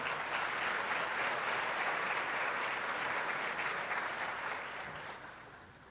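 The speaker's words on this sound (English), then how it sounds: "So let's give him a warm round of applause." A graduation ceremony audience gives warm applause, a dense, even patter of many hands heard from a moderate distance that slowly fades out.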